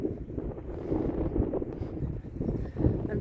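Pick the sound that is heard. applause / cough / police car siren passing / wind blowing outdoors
wind blowing outdoors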